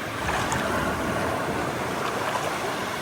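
Black Sea waves swell and wash near the Odesa shore, a steady broadband rush of surf with light wind that stays close and even throughout, and no voices.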